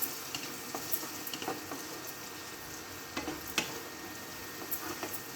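Onions sizzle and crackle steadily in a hot pan, with occasional scraping stirs, quiet and close with no talking.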